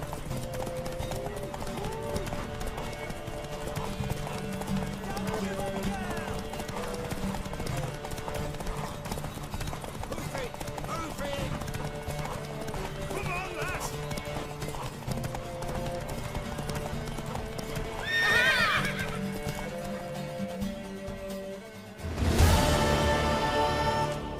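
Horse hooves clip-clop steadily through a race in The Witcher 3, layered over game music and ambience, with a brief whinny and a louder burst of sound near the end.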